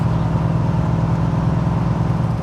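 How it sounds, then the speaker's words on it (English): A loud, steady car engine drones close up with an even, rumbling idle in the driving game My Summer Car, with no other sound over it. "This car is really loud."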